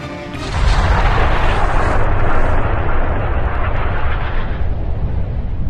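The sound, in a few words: cannon firing with a deafening blast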